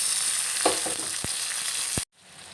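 Ridge gourd peels frying in a pan for chutney, giving a steady soft sizzle with a few brief knocks, ending abruptly.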